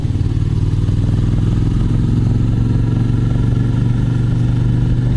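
A Suzuki Gladius 400 motorcycle climbs a mountain road near Unzen in fourth gear, its engine giving a loud, steady, throbbing drone with a fast regular pulse, close up and alone without talk.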